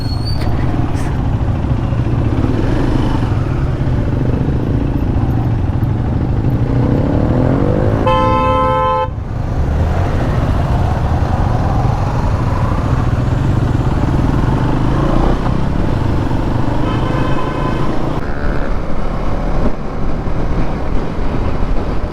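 Many motorbikes ride in a long line on a winter road trip between Bilaspur and Jashpur, giving a steady, loud engine and wind roar with passing vehicles and two short bursts of horn honking.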